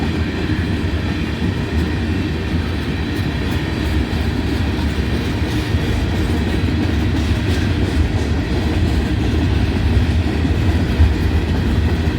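Freight train cars carrying tank loads of corrosives and refrigerant gas roll steadily past up close, a continuous heavy rumble with faint rhythmic wheel clatter and no voices.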